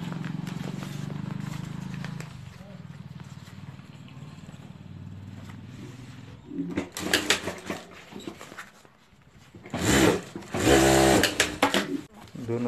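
A sewing machine stitches the lining of a homemade sling bag, running in a steady whir at first, then in louder, choppier bursts of stitching with pauses between.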